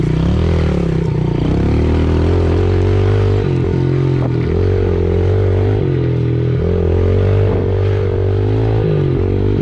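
A motorcycle rides a dirt motocross track at Catfish Pond. The engine drones loud and close throughout, rising and falling as the rider works the throttle through turns and berms, with no talking.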